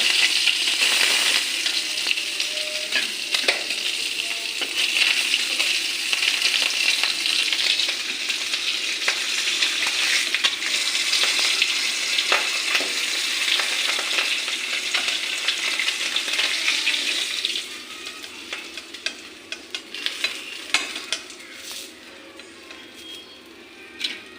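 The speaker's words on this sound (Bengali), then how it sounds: "এখন মাছটি ভাজা করে নেব" Steady, loud crackling sizzle of a whole fish frying in hot oil, continuous throughout and easing slightly toward the end, with no voices.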